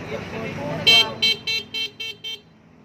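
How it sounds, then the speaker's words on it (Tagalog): A car horn beeps six times in a steady rhythm, loud and close, following a stretch of idling engine noise. "Testing of the horn."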